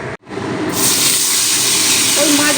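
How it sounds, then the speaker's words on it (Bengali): Cubed potatoes drop into hot oil and fry, a sudden loud hissing sizzle that swells after a brief silence and stays steady and close. "আলুটা এবার আমি ভেজে নেবো"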